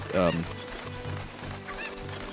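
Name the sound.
chicken (cucco) clucking in Zelda Ocarina of Time video game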